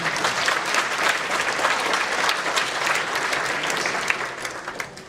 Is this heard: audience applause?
yes